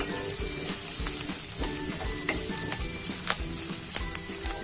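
Chopped curry leaves sizzle and crackle steadily in hot oil with onions for a sweet corn dish, with close stirring scrapes tapping through the continuous loud hiss.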